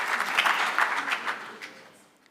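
Short burst of audience applause at an industry stakeholder forum, moderately distant clapping that fades away within a couple of seconds.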